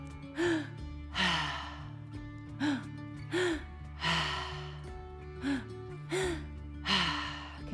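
Mouth breathing in a three-part breathwork session, with repeated loud gasping inhales and sighing exhales in a steady rhythm, close and over a soft musical background drone.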